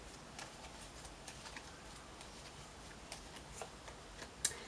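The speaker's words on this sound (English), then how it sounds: "I can almost not shuffle these because the energy is just really high." Tarot cards are shuffled by hand, giving soft, faint riffling and light taps against a quiet, hissy background. One sharper snap comes near the end.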